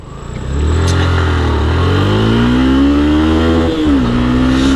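Yamaha FZS V3 motorcycle (2019) engine revving hard while riding, a loud continuous buzzing note climbing in pitch, dipping briefly at a gear shift and then rising again, close and alone.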